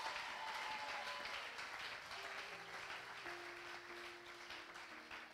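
A church congregation cheering and applauding for the Lord, a sustained wash of clapping with voices crying out, gradually thinning toward the end.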